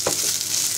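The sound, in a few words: frying green chillies and dried loitta fish in oil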